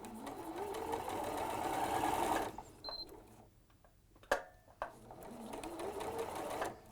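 A sewing machine stitches fabric in two rapid, whirring bursts, rising as it speeds up, with a quieter pause between them holding a few clicks and knocks.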